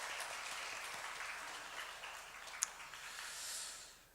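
A church congregation applauds to welcome an elder during Sunday worship, a soft, steady wash of clapping heard from a distance that tapers off at the end.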